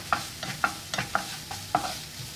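Paneer sandwich filling with pepper powder stirred and frying in a pan, a spatula scraping in five evenly spaced strokes over a soft sizzle, close and fairly quiet with no talking.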